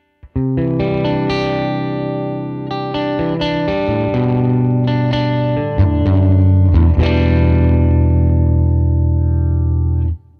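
Electric guitar with a humbucker pickup played through an AmpliTube 5 amp, ringing out loud, distorted chords thickened by chorus-like modulation, sustained almost without a break for about ten seconds.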